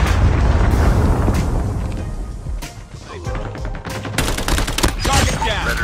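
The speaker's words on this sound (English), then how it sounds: "Predator missile inbound." A Predator missile strike in the shooter game Call of Duty Mobile sets off loud, dense booming explosions mixed with rapid gunfire bursts and crackles, continuous and close throughout.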